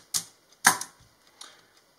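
A reset lever on the keyboard of a Monroe mechanical calculator snaps back, making two sharp metallic clacks a half-second apart and then a fainter click, up close with no talk.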